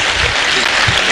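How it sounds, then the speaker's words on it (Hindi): Loud, close applause from a crowd at a motivational gathering, a brief dense burst of many hands clapping with a few low thumps mixed in. "उसके लिए ज़ोरदार ताली है।"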